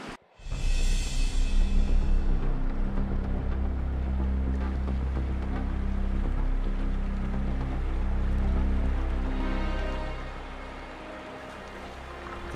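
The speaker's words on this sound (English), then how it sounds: "really quick moving creek" Fast-moving creek on a Yukon wilderness canoe trip, a loud steady rush of flowing water with a rumbling low roar and some wind buffeting the microphone.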